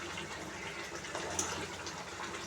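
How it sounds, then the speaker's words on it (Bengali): Water poured into a cooking pot of prawn curry with bottle gourd, a soft continuous splashing gush heard close and faint, with no talking. "দেবো এবার জল।"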